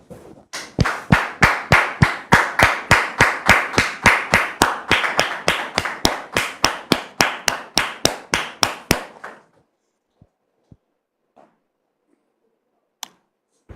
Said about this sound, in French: Merci de recevoir Dame Mariette ici sous vos applaudissements